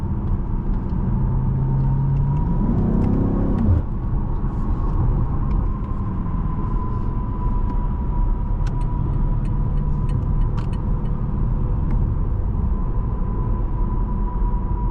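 A 2021 BMW M8 Gran Coupe accelerates on the road, a steady loud interior rumble of engine and tire noise with a rising tone early on, continuous throughout without speech.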